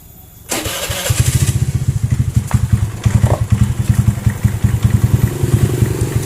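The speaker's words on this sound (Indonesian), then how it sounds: "kita nyalakan dulu starternya" A Honda Vario 110 motorcycle engine cranks and fires on a cold early morning, then runs with a steady, close, loud, pulsing idle that lasts to the end.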